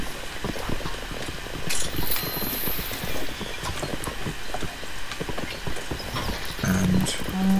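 A video game horse gallops in a steady stream of hoofbeat clip-clops, close and fairly loud, running continuously alongside faint game sounds.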